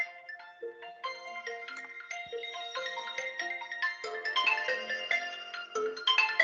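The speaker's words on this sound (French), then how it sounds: "Excusez-moi, c'est le téléphone." A phone rings during an online class, a repeating electronic ringtone melody of bright chiming notes that grows fuller and louder as it continues, with no talk over it.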